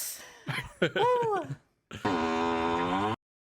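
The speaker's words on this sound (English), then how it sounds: "That's a fart." A fart in the 1993 film Joshua Tree: a sustained, buzzing, tonal blast of about a second, following a short run of grunting vocal sounds.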